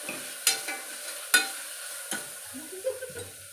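Mutton pieces with green chillies frying in a pan, a soft steady sizzle broken by sharp scraping clanks of a spatula stirring against the pan every second or so.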